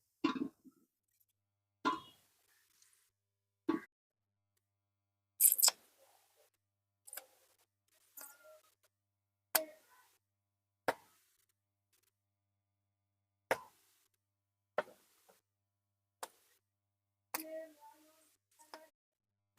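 Jujube berries (kul) being cracked open by hand for a pickle, a series of isolated sharp snaps and clicks spaced a second or two apart in an otherwise quiet space.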